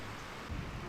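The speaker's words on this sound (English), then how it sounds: "I can hear the thunder." Rain and rolling thunder in the Sailwind sailing game fill the scene as a faint, steady wash of rainfall, with a soft low thunder rumble swelling near the end.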